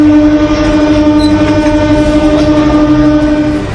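A train crosses the new Pamban railway bridge, built over the sea on 333 pillars and cleared for 75 km/h, giving a loud, continuous rolling rumble with a steady sustained horn-like tone running throughout.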